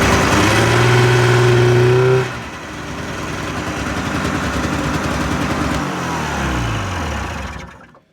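A small engine revs steadily with a rising whine, then drops off and keeps running as its clutch engages at about 3,500 RPM. The engine is loud and close, with no talking.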